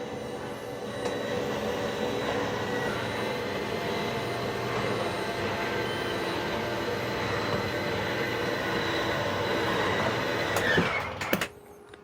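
The slide-out room of a 2026 Forest River Sunseeker 2400BDS Class C motorhome retracts with a steady, continuous motor hum and mechanical whir for about eleven seconds, ending in a couple of sharp clunks as it seats fully in.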